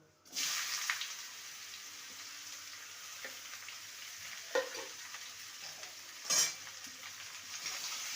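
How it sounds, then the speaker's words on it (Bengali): Cut bottle gourd pieces tumble into a hot tempering of whole dried red chillies and fry with a soft sizzle, stirred with a few sharp scraping clatters; no one speaks. "ফোড়নটা ভাজা হয়ে গেছে এবার টুকরো করে কেটে রাখা লাউ দিয়ে দেবো"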